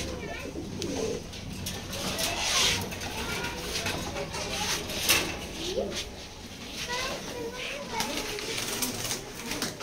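Racing pigeons coo repeatedly inside a loft, soft throaty calls rising and falling close by under someone talking.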